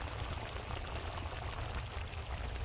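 Cauliflower roast gravy simmers in a pan, a steady low bubbling and soft popping hiss that continues evenly throughout, close and fairly quiet with no voices.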